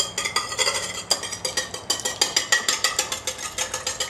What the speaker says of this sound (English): I'm going to go ahead and use my whisk from before